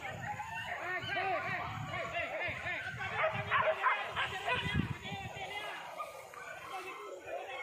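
Dogs bark, yip and whimper in an outdoor hunting chase on a hill, the calls overlapping in a busy, continuous chorus with people talking throughout.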